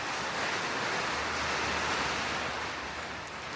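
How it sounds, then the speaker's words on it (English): Steady rain pours outside a workshop, a dense, even hiss holding at constant loudness throughout with no other sounds standing out. "Listen to that rain."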